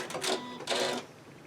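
A sewing machine stitches a fabric mask in two short whirring bursts separated by a brief pause, close and fairly quiet.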